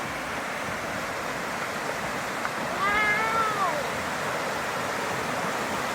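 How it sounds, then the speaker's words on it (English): A small waterfall chute in a dense Georgia backcountry forest gives a steady broadband rush of falling water throughout. A brief animal-like call rises over it midway, and someone speaks a single short word. "little waterfall here"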